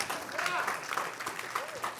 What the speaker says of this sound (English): Yes, you can clap, it's okay.